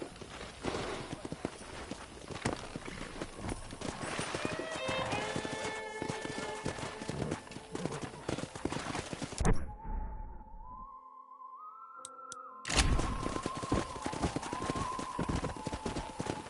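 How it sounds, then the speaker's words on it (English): Horses in the Red Dead Redemption video game, rapid clip-clop of hooves galloping with a brief neigh, then a short quiet gap before the hoofbeats return at full loudness. "let's see if we can't wrangle some horses."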